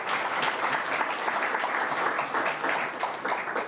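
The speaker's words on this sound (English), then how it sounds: "I think you deserve to give them a round of applause" An audience at a national youth parliament session gives a round of applause for parliament staff, dense, continuous clapping that holds steady throughout.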